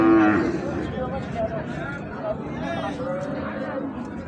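A cow at the Ambari cattle market, where improved-breed dairy cows and calves are traded, gives a loud, close moo at the outset, followed by market chatter and a crowd murmuring around it.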